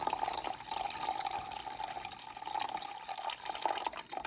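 Water poured from a container into a bowl sitting on a kitchen scale while making pizza dough, a soft, continuous trickling and splashing stream, fairly quiet and steady, with no voices.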